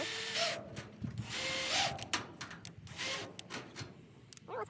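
A power drill drives screws into shed panels during home assembly. It makes short bursts of whirring that rise and stop, with several close, loud runs separated by brief pauses.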